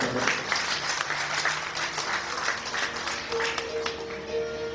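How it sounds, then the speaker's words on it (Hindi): Loud, steady applause from a gathered audience at a Shrimad Bhagwat Katha religious discourse in Delhi, welcoming a temple society secretary, continuous clapping throughout with faint tonal sounds in the background. "जोरदार तालियों से स्वागत है"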